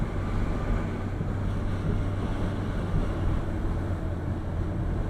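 A Mercedes W140 350SD six-cylinder turbo diesel climbs a hill at about 2000 RPM, a steady, dense engine drone mixed with broad rushing road and wind noise, without talk.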